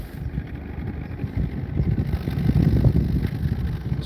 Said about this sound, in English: it still feels like it's running rough